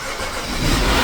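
A rebuilt engine in a BMW X5 runs, a rough mechanical roar that swells and grows louder toward the end as it catches and revs, close by with no talking.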